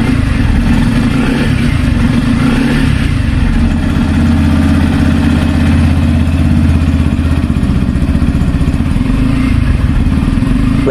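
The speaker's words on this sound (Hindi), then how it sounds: "अब आप इसके इंजन का साउंड सुनिए और इसका एग्जॉस्ट नोट भी सुनिए।" A Bajaj Pulsar 160 motorcycle idles close by, its engine and exhaust putting out a loud, steady, evenly pulsing low thrum with no revving throughout.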